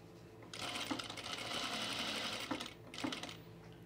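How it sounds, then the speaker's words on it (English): A sewing machine runs a long basting stitch on men's chino trousers, a close steady whirring burst of about two seconds, followed by a brief second run, with soft clicks around it and no speech. "So do a nice long basting stitch."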